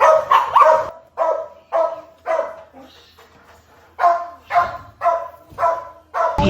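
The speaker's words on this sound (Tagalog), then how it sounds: "Ang aso to. Ang ingay." A dog barks repeatedly in short, loud bursts, a quick cluster, a brief pause, then another run of barks close by.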